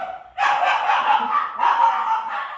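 Excited puppies barking and yipping in a steady, busy stream, fairly close and loud, with a short quiet gap before the yaps start and a brief dip midway.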